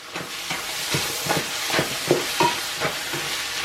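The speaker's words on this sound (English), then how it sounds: "Give that a quick stir." A spoon stirs cottage pie filling in a sizzling pan, with a rhythmic series of scraping strokes over a constant frying hiss, heard up close and without speech.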